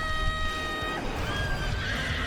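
A horse neighs in a Fate anime fight scene, a shrill, wavering whinny over dense, clattering battle noise and hoofbeats, loud and continuous throughout.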